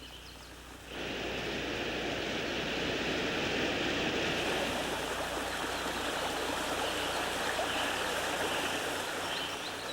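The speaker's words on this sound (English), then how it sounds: "trails lead into the forests, punctuated with sounds of brooks, streams, cascades," A Blue Ridge forest stream with cascades and waterfalls rushes steadily. The dense, even water noise swells in after a near-silent first second, then holds loud and unbroken with no voices.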